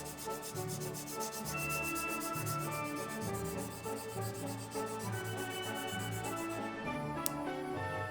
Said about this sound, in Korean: 200에서 400방 스펀지 사포로 부드럽게 갈아줍니다